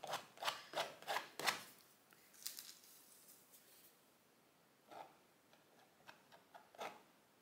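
A card is dragged lightly over acrylic paint and gold foil, giving soft raspy scraping strokes, a quick series first, then sparser faint passes, quiet and close.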